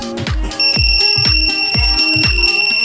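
A loud motorcycle anti-theft alarm chirps in rapid repeated bursts, each with a sharp attack, over a steady high-pitched tone, close and insistent.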